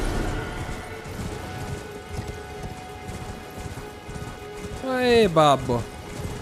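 In Elden Ring, a horse's hooves beat a fast galloping clatter, close and continuous over rain-like background noise, with a voice speaking briefly near the end.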